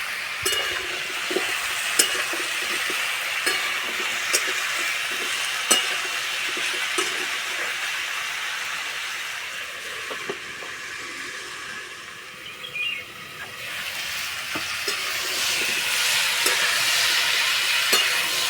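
Raw pumpkin chunks are stirred in a pan of hot oil, giving a continuous sizzle with scattered scraping clicks from the spatula. The sizzle dips briefly midway, then swells louder again.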